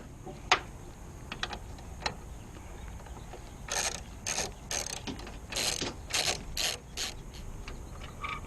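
A ratchet loosens the bolt holding the marker light on a GMC Safari van, heard as quiet, close clicking in short bursts with brief pauses. A few sharper ticks come first, against a faint background.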